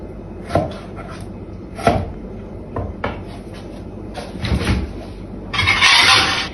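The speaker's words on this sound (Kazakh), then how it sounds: "Енді осылай тураймыз." A knife chops salad ingredients on a board, with several distinct thuds and knocks at irregular intervals, fairly close and moderately loud, ending in a brief rustle.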